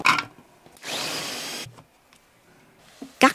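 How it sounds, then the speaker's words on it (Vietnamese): An electric food processor grinds chopped onion and garlic in a home kitchen, running in one loud whirring burst of about a second, with clatter and handling noises before and after. "Mình cho vào máy xay cho nhanh."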